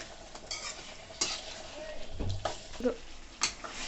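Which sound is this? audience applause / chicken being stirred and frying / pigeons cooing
chicken being stirred and frying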